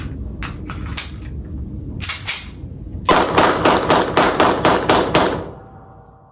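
A Taurus PT-92 9mm pistol fires a loud series of sharp shots: a few scattered reports first, then a rapid string of about eight evenly spaced blasts, with no talking.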